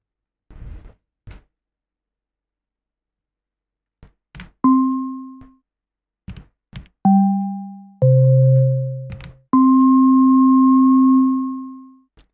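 Sampled whistled tones with a pure sine wave layered beneath play as several sustained notes of varying pitch, separated by short percussive clicks and taps, clean and isolated with no voices.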